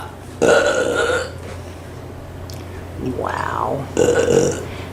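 Two loud, drawn-out human burps about four seconds apart, with a person's voice between them.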